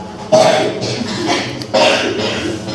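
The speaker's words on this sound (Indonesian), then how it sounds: "Waduh, batuk." Two short coughs, about a second and a half apart, sound close by over a low murmur of classroom noise.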